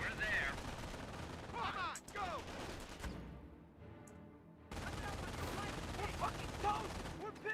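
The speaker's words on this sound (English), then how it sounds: "I hear machine gun sounds." Machine gun fire crackles in the Company of Heroes video game, bursts of rapid shots at moderate distance with a short lull in the middle, while a voice talks over parts of it.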